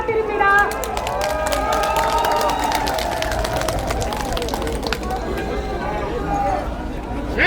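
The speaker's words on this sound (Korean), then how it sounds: "큰 박수 부탁드립니다." Large outdoor crowd at a Korean presidential election campaign rally applauding and cheering steadily, a dense continuous roar of clapping and voices with a public-address voice audible over it.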